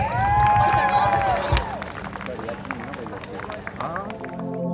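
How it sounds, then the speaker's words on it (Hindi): Audience applause and cheering at a wedding sangeet, a dense crowd noise beneath a loud sustained voice or music at the start, then scattered clapping and shouts continuing under lively background sound. "जोर से तालियां बजाइए"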